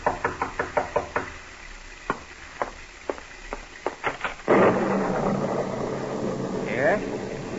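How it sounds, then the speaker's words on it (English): Several sharp raps on a door in an old radio drama, arriving in quick clusters of four or five, then a few single knocks, up close, before a door swings open onto louder room noise. "you're startled by a knock on the door"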